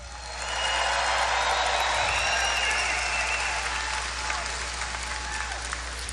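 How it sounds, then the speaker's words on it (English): A large crowd at a Donald Trump political rally in Melbourne, Florida applauds and cheers for the commissioner, a dense, sustained roar of clapping that swells in quickly and holds steady at full strength throughout. "Big round of applause for our commissioner."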